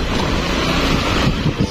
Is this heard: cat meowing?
no